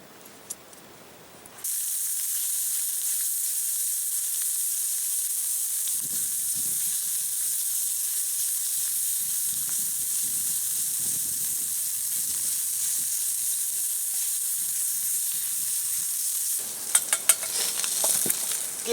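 Sausage fries on a Dakota fire pit, a loud, constant bright sizzle and hiss that holds steady for a long stretch, with faint stirring scrapes underneath and a short quieter moment before it starts.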